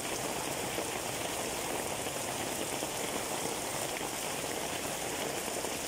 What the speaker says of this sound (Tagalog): Grabe, ang lakas ng ulan oh.